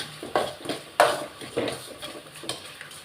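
Ingredients are stirred and sautéed in a pan for a Tamil home lunch, with a clay pot unavailable; a steady run of near, moderately loud scrapes and clinks of a spoon against the pan recurs every half second or so, with no talk.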